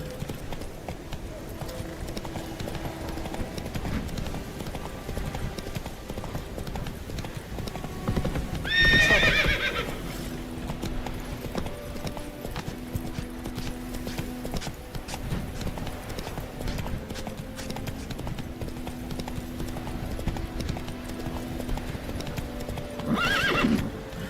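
Roach, the horse in The Witcher 3: Wild Hunt, trots with steady rhythmic hoofbeats and lets out a loud neigh partway through, then another short whinny near the end, over game ambience and music.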